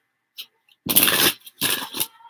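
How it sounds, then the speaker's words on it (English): Tarot cards are shuffled up close in a few quick riffling bursts, crisp papery flutters separated by brief silences. "She's going to tell me when to stop shuffling."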